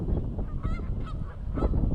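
Geese honk repeatedly on cold water in Rockford, Illinois, a cluster of nasal calls from a few birds at moderate distance over a steady outdoor rumble.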